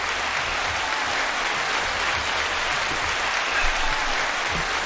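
Audience at a Valentine's Day night market claps steadily in a dense, continuous round of applause, with no voices standing out.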